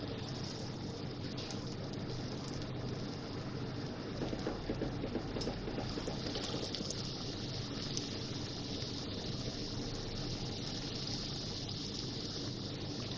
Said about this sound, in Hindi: हल्की आंच पे मैं इसको फ्राई कर रही हूँ